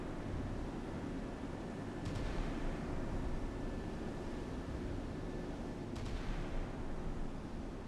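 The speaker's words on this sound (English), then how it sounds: "You're still firing your guns at these guys." Naval guns firing in the Sea Power naval combat game, set in a 1979 Soviet intervention in the Sino-Vietnamese War: two distant heavy reports about four seconds apart over a steady low rumble of engine and sea.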